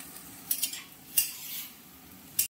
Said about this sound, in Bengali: হালকা একটু থোরটাকে নাড়াচাড়া দিয়ে সেদ্ধ করে রাখা মটর ডালটা দিয়ে দেওয়া হচ্ছে।